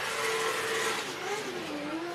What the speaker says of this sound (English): Those engine revs rise up as he spins the rear wheels